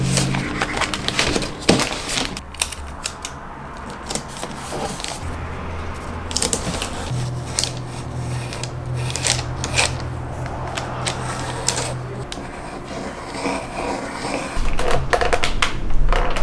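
Sticky tape is pulled and torn in a studio over tracing paper, with repeated crackling rips, rustles and handling noises close by, alone without talk.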